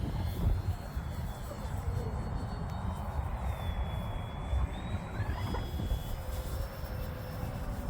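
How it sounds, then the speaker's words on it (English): A Dynam Pitts 12 Python RC model airplane flies overhead at its maiden flight, a thin whining motor tone sliding in pitch over a steady rumble of wind and outdoor noise, fairly faint. "that's a nice looking plane"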